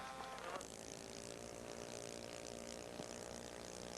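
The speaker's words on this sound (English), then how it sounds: "Beautiful airplane. We like to see him fly." A 1980s radio-controlled model airplane engine drones steadily overhead, a continuous buzzing hum with a brief swell at the start.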